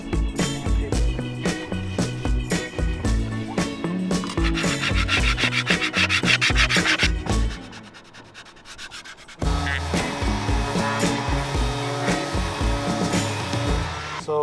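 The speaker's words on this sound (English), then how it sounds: "then I come back and do a little bit of scraping and see where we're at." Steady rasping scrape over rotten wood of a boat bulkhead softened with liquid sandpaper, continuous and close, briefly dropping away before resuming strongly.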